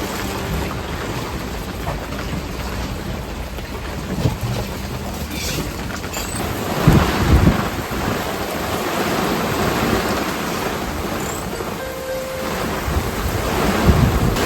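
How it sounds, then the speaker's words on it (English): Strong wind roars and waves surge continuously at sea off Italy as thunderstorms approach, a loud, steady gusty rush with surf wash and occasional heavier swells, no voices. "The wind's building and building and building."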